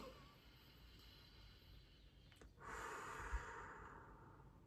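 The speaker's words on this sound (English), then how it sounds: "I want to take another deep breath here." A single slow, quiet deep breath, a soft airy inhale and exhale lasting a couple of seconds against faint room hiss.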